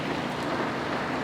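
Heavy rain pours steadily in Bagac, Bataan, a dense even wash of noise close by with no voices.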